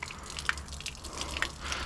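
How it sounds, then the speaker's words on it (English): Water runs steadily from a Xero Pure Revolution Max+ reverse osmosis filter system, a continuous close splashing flow with a couple of brighter drip-like plinks, heard alone without talk. "Oh man, that's a good flow of water."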